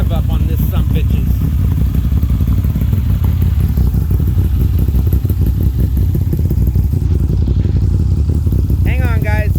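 A 2021 Moto Guzzi V9/V7 motorcycle engine revs loudly through its exhaust, a steady close, rough rumble with clattering mechanical texture throughout, and a voice briefly audible near the end.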